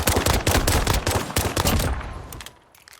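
Rapid automatic gunfire from a Modern Warfare 1v1 match rattles out in loud, close bursts, then thins to a few scattered shots as it fades toward the end, with no voices.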